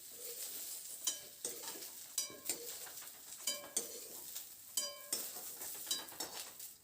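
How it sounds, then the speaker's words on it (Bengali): Vegetables stir-fried in a kadai over a high-to-medium flame for a spinach dish: a series of sharp, ringing spatula scrapes against the pan, roughly every half second to second, over a steady background sizzle, with no talking. "এবার হাই টু মিডিয়াম ফ্লেমে নাড়াচাড়া করে সবজিগুলোকে একটু ভেজে নেব।"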